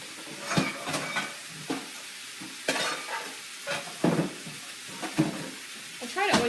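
Chicken pieces being stirred and turned in a hot pan, soft sizzling broken by repeated scrapes and clinks of a utensil against the pan, close and moderately loud, with brief talk in the background.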